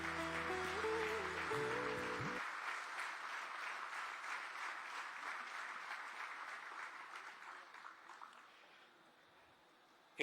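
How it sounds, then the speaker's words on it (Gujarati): Applause breaks out from an audience at a book release for a biography of Anandiben Patel, swelling after a musical chime ends and then slowly fading away over several seconds. "એકવાર ખૂબ જોરદાર તાળીઓ સાથે"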